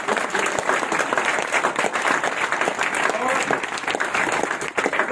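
Loud, dense audience applause at a crowded gathering, a steady roar of many hands clapping at once, with voices mixed in beneath it.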